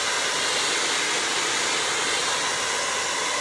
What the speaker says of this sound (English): You take your hairdryer on full blast and you basically heat up your cling film.